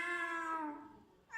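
A voice imitates a cat's meow, one drawn-out, falling mewing call, close and fairly quiet.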